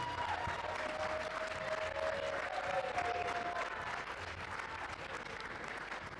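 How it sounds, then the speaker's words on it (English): Steady crowd applause fills the hall at a live-streamed ladies' league grand final prize presentation, a dense even clatter of many hands that holds at a constant level before easing slightly toward the end. "Give her a round of applause"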